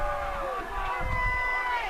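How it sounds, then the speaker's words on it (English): A football stadium crowd at a high school game roars and cheers steadily, a broad wash of voices with a swell partway through, fairly distant and sustained. "Badger Nation on its feet now, cheering loud."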